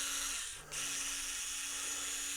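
Small 2.5mm screws driven with speed bits on a Traxxas RC car: a faint, steady electric whir that breaks briefly, then resumes.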